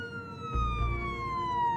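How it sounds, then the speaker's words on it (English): Police sirens wail in the detective adventure game Jenny LeClue, steady tones sliding slowly downward over a low rumble that swells partway through, heard alone. "As the sirens grew louder"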